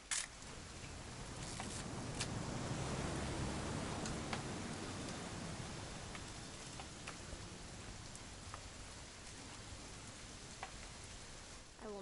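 Steady rain from the video game What Remains of Edith Finch, a continuous soft hiss of drops on surfaces with a few sharper isolated drips, fairly even in level throughout with no talking.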